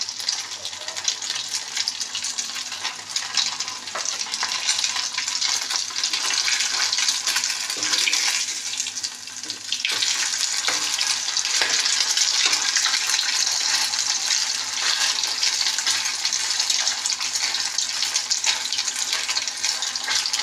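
Loti fish fritters (bora) fry in hot oil, a loud, dense, continuous sizzle that holds steady throughout with a brief dip midway.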